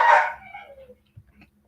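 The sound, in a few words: dog barking loudly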